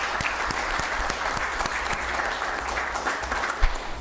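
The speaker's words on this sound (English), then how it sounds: "Could you please stand up and give them a round of applause?" A crowd claps steadily in sustained applause at a city council meeting in Rialto, a dense patter of hands that carries on without pause throughout.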